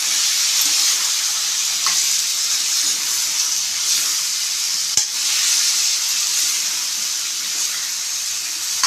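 Brinjal and drumstick frying in oil on a simmer for kara kuzhambu, a loud steady sizzle close by with stirring scrapes and one sharp knock midway, no talking.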